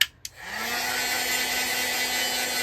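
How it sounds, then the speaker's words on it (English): A couple of short clicks, then a heat gun switches on and blows a steady, loud whooshing stream of air with a faint humming whine. "take your heat gun"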